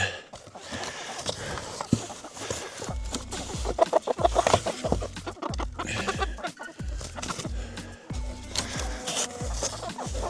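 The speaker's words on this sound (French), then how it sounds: "Et nous avons encore 3 belles poules rousses." Soft clucking from a few red hens amid rhythmic thumping and shuffling noises close by, with occasional scratchy rustles.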